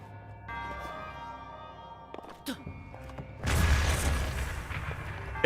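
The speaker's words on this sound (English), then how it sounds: "Explosion!" An explosion in the video game Breath of the Wild, preceded by quiet mechanical clicks and thuds, then a sudden heavy boom with a rushing rumble that fades over the final seconds.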